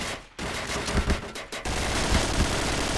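Rapid bursts of automatic gunfire in the video game Point Blank during a deathmatch, loud dense volleys that stop briefly and then resume as a continuous clattering stream.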